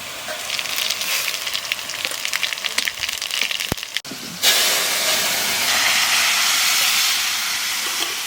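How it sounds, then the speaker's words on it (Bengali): Cumin seeds and bay leaves hit hot oil with a crackling sizzle that pops unevenly, then a sudden, sustained, loud hiss takes over midway and stays steady, with nobody talking. "তেলের পর দেবো জিরে তেজপাতা"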